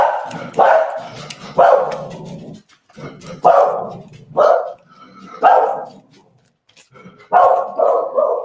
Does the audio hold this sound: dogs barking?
yes